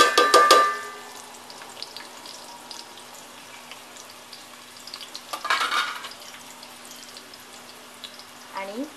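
Vertically sliced medium onions fry in hot oil for a dry mutton dish, a loud burst of sizzle and stirring at the start, then a quieter steady crackle with another stirring flurry midway.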